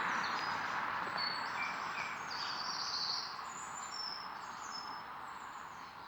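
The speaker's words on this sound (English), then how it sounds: "And those are blue tits." Blue tits call with thin, high chirps and short trills, a little way off, over a steady wash of traffic noise.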